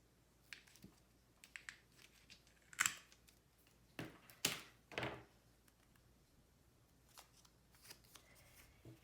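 Scissors snip a strip of score tape during a paper milk can craft: a few close, crisp cuts and rustling paper against a quiet background.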